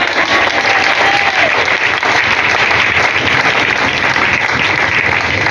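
A church congregation bursting into loud, sustained applause, dense clapping that fills the room evenly from start to finish with a few voices mixed in.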